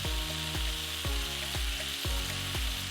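Heaped spoonfuls of spicy harissa paste fry in a pan as the base for shakshuka, giving a steady, loud sizzle with a regular pulsing rhythm. No one speaks.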